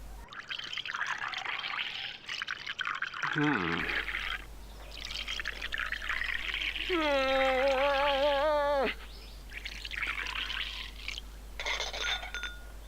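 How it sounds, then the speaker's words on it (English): Earl Grey tea pours steadily into a cup with a rising gurgling tone in Lego City Undercover, set among game music and sound effects, with talk around it. "Would you like me to pour a cup for you?"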